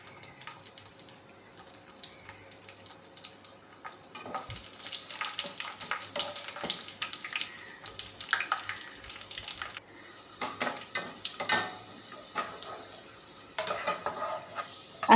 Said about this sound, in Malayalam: ഇനി നമുക്കിത് ഇതിൽ തന്നെ നമുക്ക് അണ്ടിപ്പരിപ്പും മുന്തിരിയൊക്കെ ഒന്ന് വറുത്തെടുക്കാം